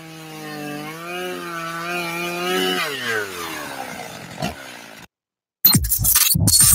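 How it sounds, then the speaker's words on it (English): A chainsaw whines at high revs in a radio ad for Burl's Chainsaw Shop, its pitch sliding down as it winds off. A brief silence follows, then a burst of rough, noisy cutting. "Use a chainsaw by Burl for all your ball stuffing needs"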